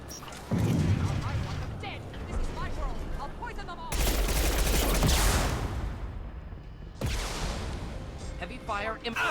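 Heavy gunfire during a Mass Effect 2 battle: dense, loud bursts of shots and booming impacts that surge in waves, mixed with combat noise and a voice speaking.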